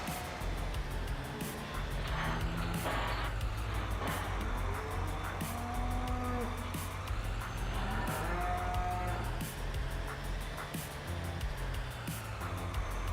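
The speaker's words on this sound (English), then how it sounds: "It's on that barn full of cows." Cattle in a barn in the video game Farming Simulator 19 moo repeatedly in low, drawn-out calls over a constant engine drone, with no talking.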